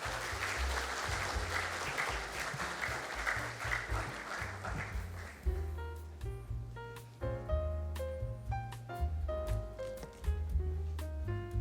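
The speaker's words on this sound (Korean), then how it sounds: "큰 박수를 부탁드리겠습니다" A conference audience in a grand hall breaks into sustained applause, loud and dense at first, then thinning as music with a steady beat and bright chimes rises and carries on alone.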